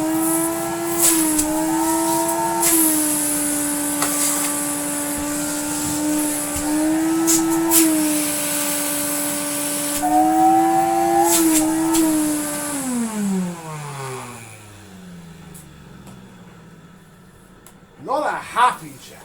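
An Electrolux Automatic 345 vacuum cleaner with a new bag but uncleaned filters runs with a loud, steady whine that wavers slightly, then winds down as it is switched off, while a person speaks over it.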